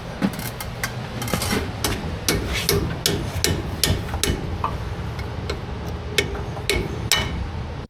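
A stuck cotter pin on a 1972 Chevrolet C10 is hammered in a shop: a long run of sharp metallic strikes, fairly regular and close, over a steady background hum.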